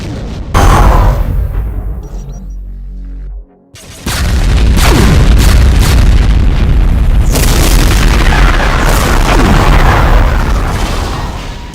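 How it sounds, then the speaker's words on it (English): A Cyberdemon firing a barrage of BFG shots, including Demon Tech, round and BFG 10K shots, in a Doom mod, with loud booming blasts, a brief lull, then a long sustained roar of overlapping explosions. "It can also charge up an ultimate barrage, which includes the Demon Tech BFG shots, round BFG shots, and BFG 10K shots."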